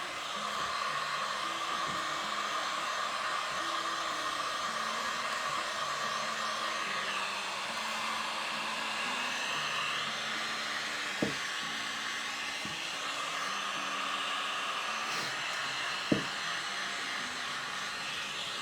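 Hair dryer blowing continuously at close range to dry paint on a candlestick snowman craft, a steady loud whooshing hiss with a couple of brief knocks.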